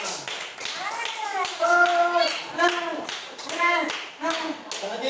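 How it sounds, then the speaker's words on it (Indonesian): A class claps for the first group in a school session, sharp hand taps landing in a loose rhythm amid lively young voices that sing or chant over them. "Berikan tepuk tangan untuk kelompok pertama"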